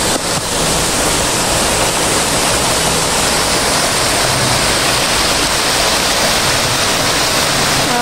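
Waterfall at Deep Water Bay, Hong Kong, its water running down to the sea, a loud, steady rushing roar held throughout with no voices.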